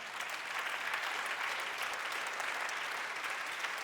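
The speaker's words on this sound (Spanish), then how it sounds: "denle un aplauso fuerte al Señor" A church congregation claps together in steady, dense applause that holds at an even level throughout, with no voices standing out.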